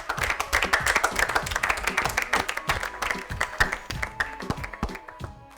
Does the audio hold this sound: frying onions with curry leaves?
no